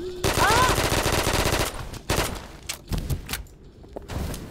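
Gunfire in a chaotic multiplayer shooter match, with rapid automatic bursts up front, then a few sharp separate shots and thuds, including one loud crack that could be a sniper rifle, all close and loud.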